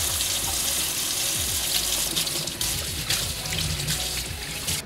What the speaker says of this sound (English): First thing I'm gonna do is actually wash the actual pot and the lid first to make sure everything is clean before I use it.